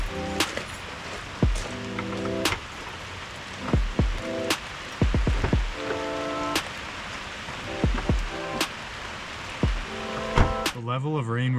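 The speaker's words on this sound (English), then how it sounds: "The level of rain we're getting today is crazy." Heavy rain pours down in a steady broadband hiss. Scattered sharp knocks and thumps cut through it, and low tonal sounds come and go underneath.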